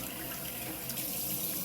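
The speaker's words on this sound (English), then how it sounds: "you want to get some hot water going" Hot water runs from a kitchen sink tap, a steady hissing splash of flowing water close by, constant and unbroken with no voices.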